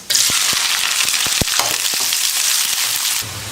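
Chopped onions hitting hot oil seasoned with mustard seeds, cinnamon, cloves and fennel, a loud steady sizzle filling the whole clip with a few sharp taps from a stirring spoon against the pan.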